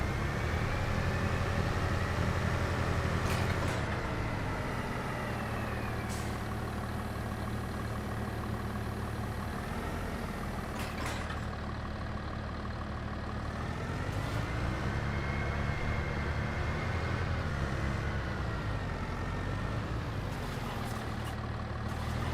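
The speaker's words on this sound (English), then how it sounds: "Yep, cement truck, you go right ahead." A cement truck in Farming Simulator 25 rumbles along with a steady, continuous heavy diesel drone, its pitch rising and falling gently as it drives, with occasional brief clicks and hisses over the constant engine.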